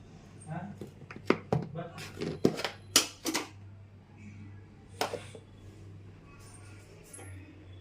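Tomatoes being chopped on a board for a tomato curry in a home kitchen, a cluster of sharp knife taps in quick bursts, then a lone chop after a pause, against a low steady hum with faint background voices.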